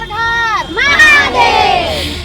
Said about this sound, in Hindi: एक जयकारा तो आपसे भी बनता है, बोलो श्री शंभुनाथ की जय।